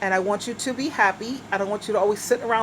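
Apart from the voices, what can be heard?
No everyday noises stand out.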